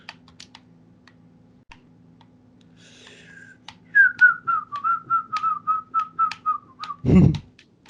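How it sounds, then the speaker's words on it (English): A person whistles a short tune of about ten bright, evenly spaced notes, close and clear, after a few seconds of quiet room hum and light clicks, ending with a heavy thump. "That was kind of just me whistling."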